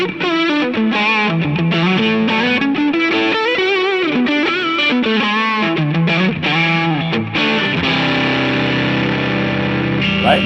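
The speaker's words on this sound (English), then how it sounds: "Right, nice crunchy tone." An electric guitar on the neck pickup, through a Lil' Rat pedal, with a crunchy, moderately overdriven tone plays a melodic line with chords, loud and continuous with no talking.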